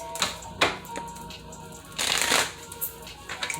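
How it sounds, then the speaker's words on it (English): Tarot cards riffled and shuffled in a few quick bursts, crisp flapping and snapping bursts up close, with brief pauses between. "a couple more shuffles and a slick cut."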